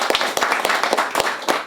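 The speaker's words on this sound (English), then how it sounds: "Give him a round of applause." Audience claps for Firefighter of the Year Vasquez at a 2016 firefighter celebration, a short run of close, uneven claps from a modest crowd.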